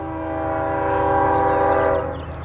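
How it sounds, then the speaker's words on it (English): A passing train near Newcastle close to Roseville sounds a loud, sustained, harmonically rich horn blast that swells over about two seconds before easing, with a low rumble beneath. "Trains are coming, in case you can't hear that."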